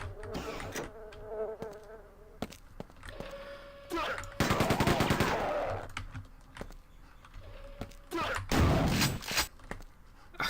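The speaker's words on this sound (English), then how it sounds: "Just a good shotgun noise as well." Beefy shotgun blasts from the shooter game Quake 2, loud booming bursts recurring several times against a droning background of game sound and buzzing.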